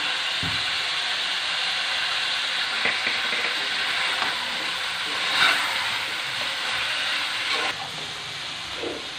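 Chicken pieces sizzle and fry in a pan after cumin powder and salt are added, a loud steady hiss lasting throughout with occasional stirring clinks and scrapes.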